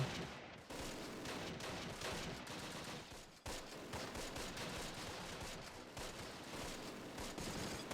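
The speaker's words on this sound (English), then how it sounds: "the mortar teams are actively engaging her now" Sustained, dense mortar and small-arms battle fire from the Close Combat: The Longest Day war game, a continuous loud barrage of overlapping blasts and crackle with no pauses and no talk over it.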